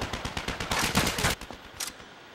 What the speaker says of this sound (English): Oh, I got a mounted machine gun up there.